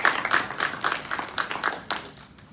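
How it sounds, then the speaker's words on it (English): Polite round of applause for a law professor panelist at a Harvard Africa conference, a modest audience clapping in a steady patter that thins out over a couple of seconds. "Please give a round of applause for Professor Raymond Atuba."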